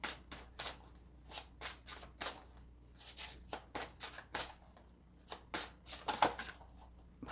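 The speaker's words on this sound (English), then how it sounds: "this is going to be like an awkward shuffle because this deck is really large." A large tarot card deck being shuffled by hand, with a quick run of crisp papery riffs and slaps in uneven bursts, close and moderately loud, with no talking.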